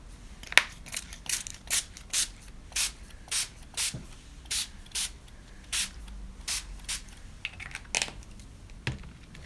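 Repeated short hissing bursts of a spray bottle spraying Distress ink stain, about a dozen pumps in an uneven rhythm, close and clear with quiet handling noise between.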